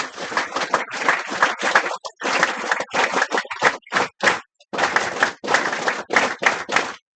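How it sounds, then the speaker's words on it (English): Group 'NSS clap' at a college event in Chennai welcoming a chief secretary, heard as a rhythmic series of loud, synchronized claps in short bursts with brief pauses between them. "I welcome our Honorable the Additional Chief Secretary, Sri Atulya Mitra sir, with our NSS clap"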